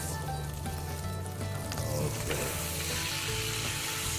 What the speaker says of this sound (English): If the taste is anything like the aroma and the sizzle, this is going to be pretty special.